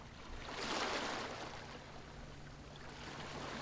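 Sea waves heard softly from a distance, a gentle broadband wash that swells early and then settles into a steady, low surf hiss, calm and continuous with no voices.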